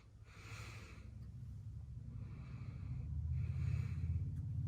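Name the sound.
patient taking deep breaths during a stethoscope check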